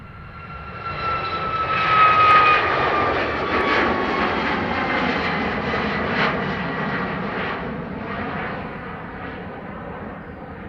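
A Ryanair jet airliner on the runway at Dublin Airport roars with a broad engine rumble that swells to a peak early on and then holds steady, loud and sustained with no talk over it.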